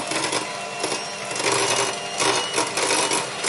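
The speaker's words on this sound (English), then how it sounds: "So we've got our whisk here, let's give it a go." An electric whisk beats cookie batter for a white chocolate and cranberry tray bake, giving a loud, steady, close whirr with a slight rattle that holds through the whole stretch.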